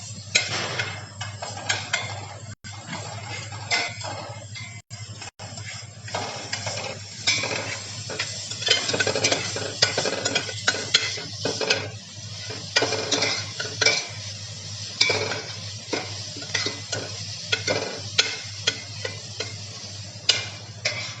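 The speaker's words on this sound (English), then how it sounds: "And now we will add some chopped onions. And again saute the onions." Chopped onions sautéing in a pan, a continuous sizzle broken by repeated scraping and clinking of a utensil stirring against the metal, close and steady throughout.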